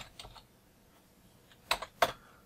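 Keystrokes on a computer keyboard, a couple of faint taps early on, then three sharp, close clicks spaced about a third of a second apart near the end, with no talking.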